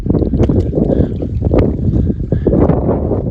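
Strong wind on a mountain trail above 5,000 feet roars and buffets close against the microphone in a continuous gusty rumble, with no talking.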